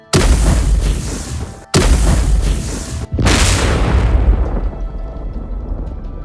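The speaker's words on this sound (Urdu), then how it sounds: "یہیں طیارے کے پچھلے حصے سے ایک خوفناک دھماکے کی آواز آتی ہے" A loud, sustained explosion roars from the rear of a Japan Airlines airliner, in repeated heavy booming waves that cut off abruptly and then trail into a fading rumble.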